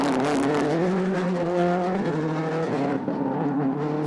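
A rally car at the 2010 Rally of the Lakes is pushed hard along a stage near Galway's Bridge. The engine snarls loud and close, its pitch rising and dropping with gear changes, and there is a hint of tire scrub.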